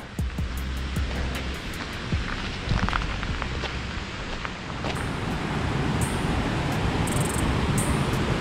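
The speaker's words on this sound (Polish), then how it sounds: "Tylko słychać szum wodospadu." A waterfall in Iceland, reached on a dark path, gives a steady, loud rush of water throughout, with a few faint footstep-like clicks near the start.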